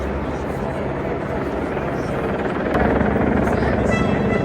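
Two helicopters' rotor drone throbbing steadily overhead in London, loud and continuous, with a faint voice in the mix.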